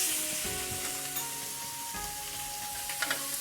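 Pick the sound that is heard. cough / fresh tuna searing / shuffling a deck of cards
fresh tuna searing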